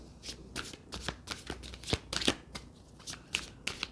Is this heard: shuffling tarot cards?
yes